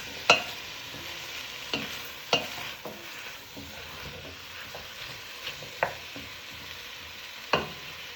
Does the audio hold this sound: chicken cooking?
yes